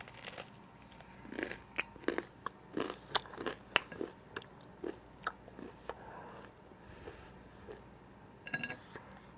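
Someone bites and chews gluten-free hard tack up close, giving a series of sharp, irregular crunches and crackles over quiet room tone.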